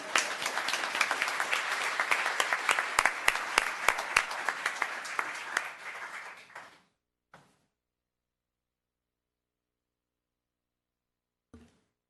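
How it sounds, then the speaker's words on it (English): Audience at a town council meeting applauds, a dense burst of clapping that thins into a few scattered claps and stops after about seven seconds, then near silence with one faint late thump. "Let's give her another applause."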